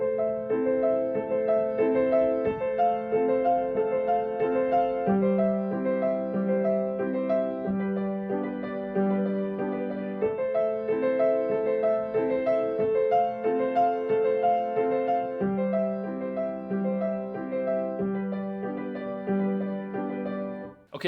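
Solo piano with a steady low bass note alternating with mid-range chords in the left hand, a melody playing above, continuous and moderately loud.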